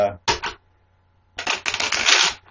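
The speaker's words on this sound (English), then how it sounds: "I'm going to shuffle the cards 3 times" A deck of playing cards being shuffled during a live card reading, heard as two riffling bursts, a short one and then a longer, denser one, close and fairly loud with a quiet gap between them.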